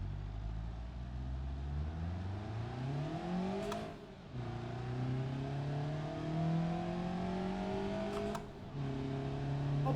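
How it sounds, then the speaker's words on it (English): An inline-four car engine in the BeamNG Drive video game revs up through a long tunnel, its harmonic drone climbing and falling with throttle, echoing and loud, with two brief dips where the revs drop between gear shifts. "It does make the car's engine sound better"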